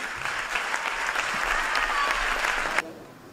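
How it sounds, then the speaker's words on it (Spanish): An audience claps in a theatre at a local sports awards gala as a youth athlete is honoured, a sustained even burst of applause that cuts off sharply near the end. "aplauso para Claudia Gómez Cruz."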